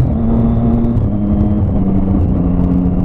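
A Honda XRE300 motorcycle engine with a cracked cylinder head shifts into sixth gear, giving a steady, loud droning rumble with engine tones that step in pitch, continuous and alone throughout.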